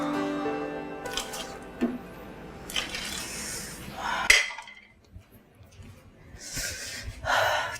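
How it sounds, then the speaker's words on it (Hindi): Dishes, pots and pans are handled at a kitchen sink, with intermittent clinks and clatters of utensils and crockery up close, separated by short quiet gaps and some breathing sounds. "इतने सारे बर्तन मेरे लिए जमा करके रखे हुए"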